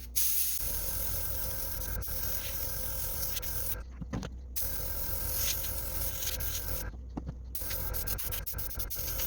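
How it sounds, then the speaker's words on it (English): Airbrush hand-spraying a fine lateral line of paint onto a saltwater crankbait lure, a continuous close hiss with two short pauses where the spray cuts out. "we're gonna go super fine, hand airbrushing a little lateral line"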